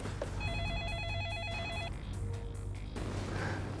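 An electronic telephone ring sounds in a steady trilling burst for about a second and a half, clear against a constant low hum, then stops, leaving faint room noise.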